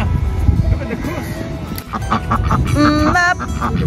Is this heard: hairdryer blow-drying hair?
no